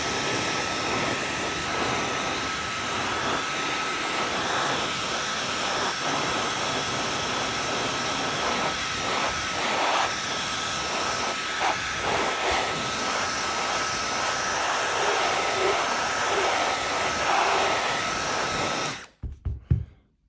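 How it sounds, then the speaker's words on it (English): Hair dryer blowing hot air on a vinyl dbrand skin being applied to an iPhone 12 Pro Max, a loud steady whooshing roar with a fixed whine that cuts off abruptly near the end. "hit it with the hairdryer"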